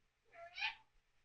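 A cat gives a single soft, drawn-out meow, faint and fairly close, in an otherwise quiet room.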